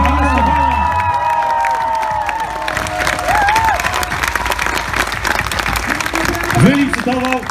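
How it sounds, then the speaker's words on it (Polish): A crowd at a WOŚP charity auction event at Stara Kuźnia in Węgrów claps and cheers loudly throughout, with whoops and shouting voices mixed in and talk heard over the steady applause. "Wielkie brawa!"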